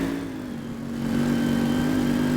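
A car engine in the video game My Garage, driven hard and fast: a steady, loud mid-pitched engine drone that rises slightly in revs partway through and holds there, with no talking.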